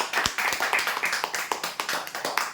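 A small group claps at a prize draw announcing a winner, with a rapid, fairly even run of hand claps close by and a faint murmur under them.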